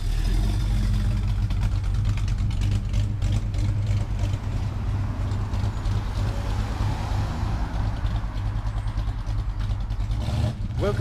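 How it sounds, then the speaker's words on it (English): A Plymouth car rolls up at a workshop, its engine idling and rumbling steadily and fairly close, with a low, continuous tone throughout. "look at this vehicle that's turning up now. It's a nice Plymouth."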